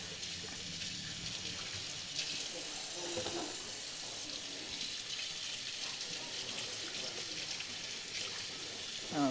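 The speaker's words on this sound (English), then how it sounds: "Let me just rinse this off real quick." A tap runs into a sink during a quick rinse, giving a continuous broadband splashing hiss at a moderate distance with some light clatter.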